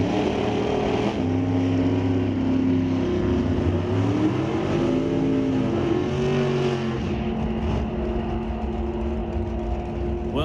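A black Chevrolet S10 Super Gas drag racer and its rival roar down the strip at an NHRA national event, loud sustained engines with shifting pitch as revs climb and fall.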